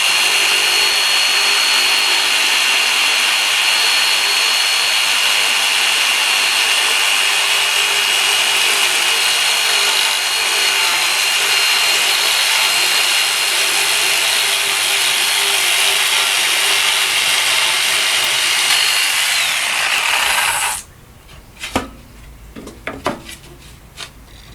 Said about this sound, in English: And then I just took the jigsaw